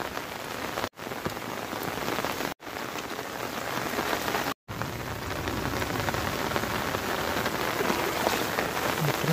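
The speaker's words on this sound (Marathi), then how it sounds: "कारण पाऊस पूर्ण बाजूने भरलेला आहे," Heavy rain pours steadily onto surfaces during a darkened monsoon downpour, a dense continuous hiss broken by three brief dropouts; no clear thunder stands out.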